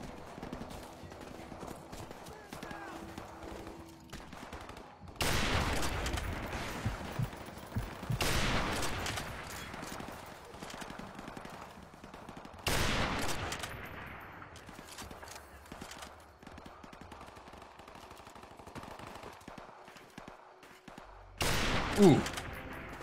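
Call of Duty: Modern Warfare Remastered gameplay: several loud bursts of gunfire break out in separate volleys amid rumbling game noise, with brief speech from players between shots.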